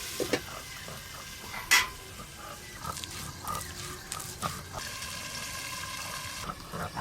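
Cut taro frying with salt and turmeric in a pan, a soft continuous sizzle with occasional scraping stirs and one sharper clatter, close and moderately quiet, no voices.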